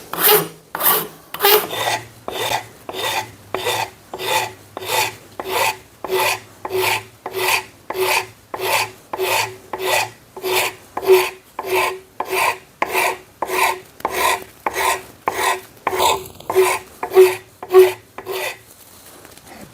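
Steady, rhythmic rasping strokes of a hand file or rasp shaping padauk wood, about thirty even back-and-forth passes, close and loud, with no talking.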